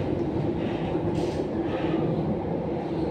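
Interior of a metro train running in the morning, a steady low rumble and rolling wheel noise with a brief brighter hiss of air or squeal partway through, continuous and without talk.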